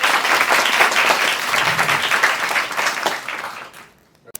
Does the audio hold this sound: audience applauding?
yes